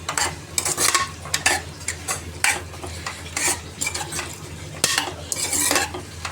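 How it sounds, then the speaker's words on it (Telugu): Tomato pieces are stirred into a mutton curry with bottle gourd, a spoon scraping and clinking against the pot in uneven strokes over a soft, continuous sizzle. "బాగా కలుపుకోవాలి."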